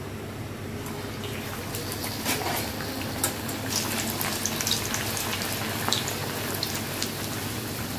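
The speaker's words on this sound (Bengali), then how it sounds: "তো চলো, তেলটা গরম হয়ে গেছে, আগে একটা ছেড়ে দিয়ে দেখি।" A sattu-stuffed puri deep-frying in a wok of hot oil, a steady dense crackle and bubbling with scattered sharper pops, close and continuous throughout with no talking.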